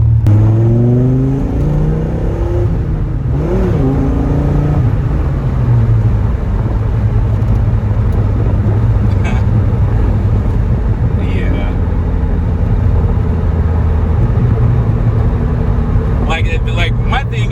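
A Dodge Viper's engine rumbles steadily at idle with several revving swells early on, loud and close, while a person talks over it throughout.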